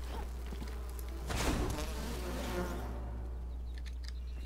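Bees in the Enshrouded video game, a close, steady insect buzz over a constant low hum, swelling briefly partway through before settling back to an even drone.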